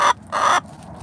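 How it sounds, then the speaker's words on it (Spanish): Backyard hen gives two loud, close clucking squawks in quick succession, then quieter background noise follows. "La gallina Traumas. Todo el tiempo se está quejando"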